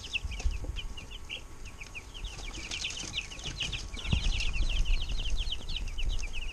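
Young broiler chicks and future laying hens chirp and peep in a dense, steady chorus of many small birds, fairly close, with faint background hum and no talk.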